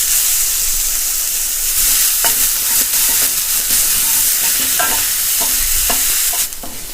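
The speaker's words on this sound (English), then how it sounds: "So in the same pan, I'll just add 1 more tablespoon of the ghee. Then I add onions." Onions fry loudly in hot ghee in a pan, a steady close sizzle and hiss with scraping stirs scattered throughout, easing off at the very end.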